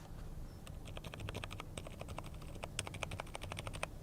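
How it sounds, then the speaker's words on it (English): Soft, muted keystrokes tapping steadily on a quiet keyboard, faint and close, with no voices. "if you compare it to the silent keyboard."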